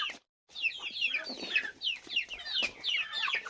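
Chickens cluck busily while being fed grain, a close, continuous chatter of overlapping clucks and murmurs from several birds after a brief silent gap at the start.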